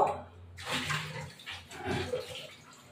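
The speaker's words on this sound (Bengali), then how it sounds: "এবার আমি প্যানে চিংড়ি মাছটাকে ধুয়ে দেব।" Shrimp being washed with water in a pan, a bursty splashing and running-water sound in two or three waves, fairly close, with no talking.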